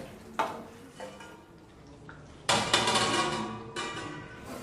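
A spoon stirs garam masala into gongura prawn curry in a cooking pot, making close scraping and clinking: a sharp knock early, then a louder stretch of rough metal-on-pot scraping and a final burst, with no voices.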